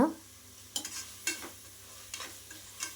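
Banana flower, tomato and masala sauté in oil for a biryani, a soft steady sizzle broken by a few distinct scraping stirs spaced across the few seconds, close by and without voices.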